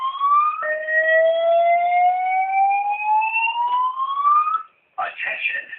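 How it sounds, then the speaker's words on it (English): Real building fire alarm sounding indoors, a loud electronic whooping tone sweeping steadily upward for several seconds, then breaking off briefly before a recorded voice announcement begins over it. "I'm going to go ahead and just disconnect the alarm"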